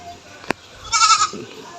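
A farm goat gives one close, loud bleat lasting under half a second, preceded by a sharp click, with a little low background noise around it.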